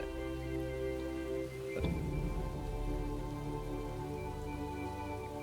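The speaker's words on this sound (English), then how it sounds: "you guys can hear that the rain picked up, right?" Heavy storm rain pours down in a steady, dense hiss beneath a sustained tonal music bed, with a soft low thump partway through.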